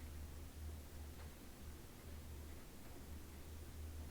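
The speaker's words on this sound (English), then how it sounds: "Oh, it's raining." Heavy rain in the game Katawa Shoujo: a steady, dense wash of noise with a low rumble underneath, constant and fairly faint throughout with no other sounds.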